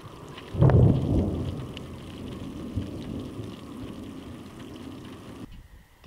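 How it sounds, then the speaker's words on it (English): Steady rain patters throughout on the southwest slopes of New South Wales, Australia, with a deep low rumble of thunder from the tail of a weak storm rolling in early on and fading away; no voices. "Bit of a rain monster. There's a rumble every 30 seconds or so."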